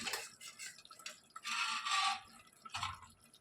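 Water is poured into a mutton and cashew curry gravy in a pot, making close, bright splashing and gurgling in several bursts, fairly quiet with no talk.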